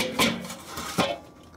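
A metal Slow and Sear Plus charcoal insert clanks twice in a Weber kettle grill, two short, close metallic knocks about a second apart.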